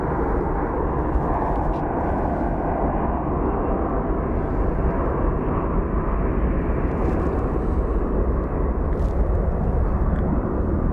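An Alaska Airlines airplane bound for Seattle at Phoenix Sky Harbor airport makes a loud, dense, continuous jet roar that fills the whole stretch without letting up and drowns out other sound.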